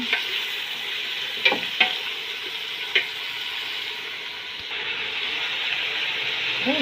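Salmon sautéing in a pan for sinigang, a steady broad sizzle with a few sharp clicks and stirring knocks near the start, close and even throughout with no talking.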